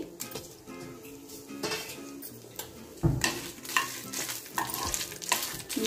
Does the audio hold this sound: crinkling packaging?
no